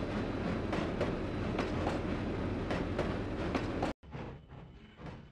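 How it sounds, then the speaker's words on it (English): A Denver and Rio Grande Western narrow gauge train runs in the Trainz 2009 game near Windy Point and Cumbres Pass, a loud steady rumble with rhythmic clacking that cuts out abruptly near the end and resumes more faintly. "Our train is now making the loop around Windy Point to Cumbres Pass"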